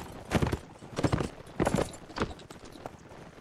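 Horse hooves clip-clop in a steady walking rhythm in the Mount and Blade video game, with five or six distinct, fairly close footfalls and no talking.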